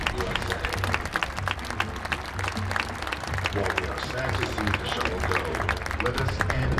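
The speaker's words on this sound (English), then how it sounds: "let's give a round of applause to the men and women of the Johnson Space Center" Sustained applause from a large crowd honoring Johnson Space Center staff, dense steady clapping with crowd murmur filling the hall throughout, over a low background hum.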